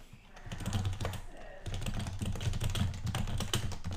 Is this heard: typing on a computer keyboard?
yes